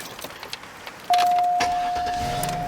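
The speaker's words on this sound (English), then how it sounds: "Car started right up." A car suspected of a bad alternator starts abruptly after some faint key jangling, then settles into a steady, loud idle with a thin constant whine, close by and without talking.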